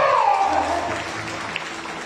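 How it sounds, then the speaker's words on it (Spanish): Short burst of applause from a congregation during a Mass, clapping heard among crowd noise with some voices mixed in, fading out over two seconds. "un aplauso"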